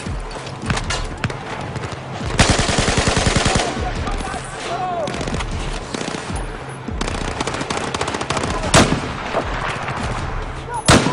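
Grenade launcher blasts and automatic gunfire in a Battlefield 4 campaign mission, loud bursts of rapid shots mixed with heavy booming explosions, continuing throughout with brief lulls between volleys.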